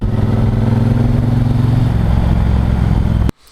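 Triumph Bonneville Bobber motorcycle ridden on the road, a loud, close, steady engine drone with rumbling low tone that runs evenly then cuts off abruptly near the end.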